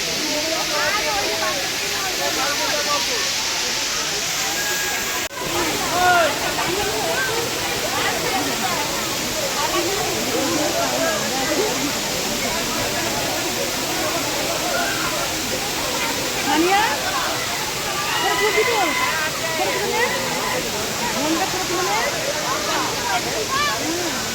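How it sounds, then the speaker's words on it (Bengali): A steady, loud roar of the Bamni Falls waterfall in the Ajodhya Hills rushes continuously throughout, a broad hiss with no pauses. "বামনি ফলসের ঝর্ণাটা ভালোভাবে দেখানোর জন্য"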